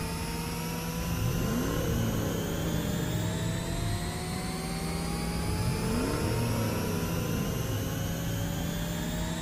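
Car engine of the hero Johnson in the Mobile Legends video game, a steady droning motor with rising revving sweeps, continuous and moderately loud under game background noise, no talk.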